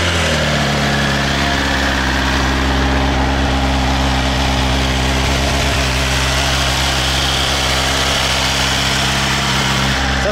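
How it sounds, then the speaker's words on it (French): A four-cylinder 165 hp motorcycle idles loud and steady up close with a deep, even, aggressive drone. The engine holds a high idle throughout with no pauses. "on démarre ce 4 cylindres"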